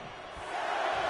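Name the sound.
crowd cheering in wrestling video game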